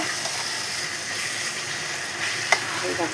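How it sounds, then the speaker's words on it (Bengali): Mutton is tipped into a hot pan without water and sizzles loudly and continuously up close, with stirring scrapes and a sharp clink partway through. "এবার মাটনটা ঢেলে দিলাম"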